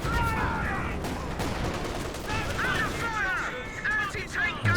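Machine gun fire during a Company of Heroes 2 battle: a steady rattle of distant automatic fire and scattered explosions beneath constant excited commentary.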